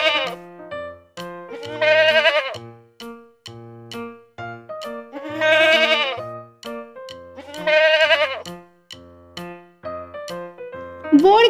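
A baby goat bleats repeatedly in high, wavering cries, close and clear, over a light rhythmic music backing.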